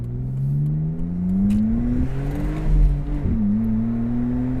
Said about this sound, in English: I'll do a little acceleration here.